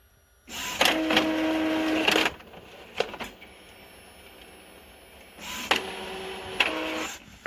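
An Epson EcoTank ET-2720 inkjet printer whirs in two mechanical bursts separated by a quiet pause while printing a test page, with clicks and a steady motor drone, close by.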